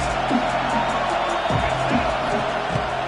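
A stadium crowd at an Ole Miss college football game roars in a dense, steady wash of noise, with scattered whoops and shouts rising out of it. A commentator talks over the crowd throughout.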